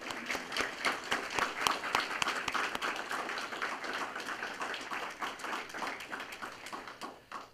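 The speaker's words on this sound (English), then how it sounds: "Let's give him a round of applause." A round of applause at a sheriff's foundation awards presentation, individual claps distinct and fairly close, a lively crowd clapping steadily and tapering off at the end.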